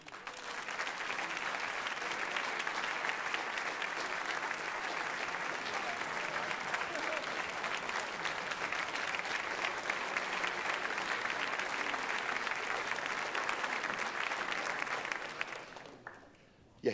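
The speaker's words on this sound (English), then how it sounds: "You had to give me a standing ovation." Sustained audience applause in an auditorium at a dedication ceremony, a dense, steady roar of clapping hands that continues for about fifteen seconds before cutting off abruptly near the end.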